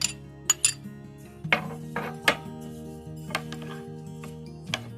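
Spoon clinks and scrapes against a bowl while ketchup, salt and garlic are stirred into an instant pizza sauce, sharp ringing taps in an uneven rhythm, close and fairly loud.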